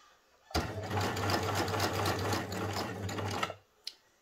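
A sewing machine stitches a dress seam for a wedding gown, running in one steady, fast, close burst of about three seconds before stopping, followed by a single small click.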